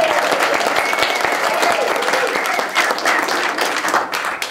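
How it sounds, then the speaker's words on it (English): Audience applause at a book tour conversation event in an art space: dense, steady clapping from a room full of people that fades slightly toward the end. "can we reserve the biggest round of applause to the two ladies"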